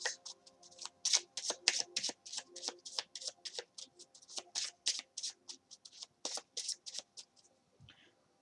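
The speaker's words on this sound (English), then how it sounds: "I shuffle the deck and my client cuts the deck." A deck of Wisdom of the Oracle cards shuffled by hand, a close, rapid series of crisp papery riffles and slaps in an uneven rhythm, with faint talk underneath.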